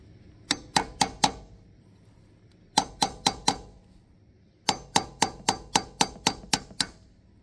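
A hammer strikes a greaseable bearing into a trailer hub: sharp metallic blows in three bursts, four quick hits, then four, then a longer run of eight, close and loud with short pauses between.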